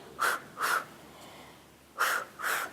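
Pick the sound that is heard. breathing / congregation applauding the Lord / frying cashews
breathing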